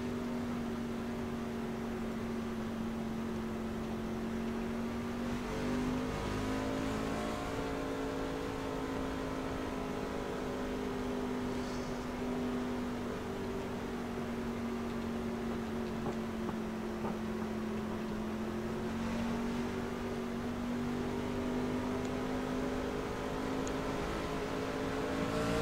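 From inside a race car, the engine holds a steady, droning hum for several laps, its pitch rising and falling slightly with throttle changes and no voices over it.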